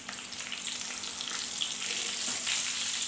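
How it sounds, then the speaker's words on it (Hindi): Chicken nuggets frying in hot oil in a Pakistani home kitchen, a steady close bubbling sizzle that holds evenly throughout with no talking. "ऑयल जो है वो अच्छा सा गर्म हो चुका है और अब हम इसमें नगेट्स डाल देंगे।"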